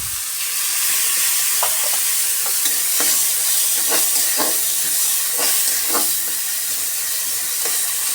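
Ginger garlic paste frying in a pan, a loud steady sizzling hiss with repeated stirring scrapes at irregular intervals, close and continuous.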